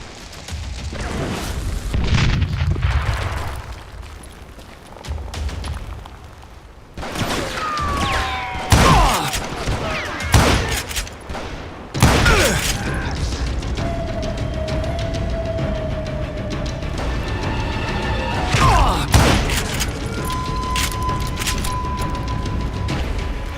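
Bomb explosions in the video game Call of Juarez: several loud, heavy booms and blasts at irregular intervals, each followed by rumbling debris and lingering noise, with no talking.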